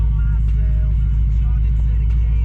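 A twin-turbo performance car engine idles steadily, giving a loud, constant low rumble with no revving, and a voice speaks over it now and then.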